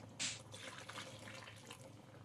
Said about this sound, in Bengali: দেখো আবারও আমি আমার আন্দাজ মতো জল দিয়ে দিলাম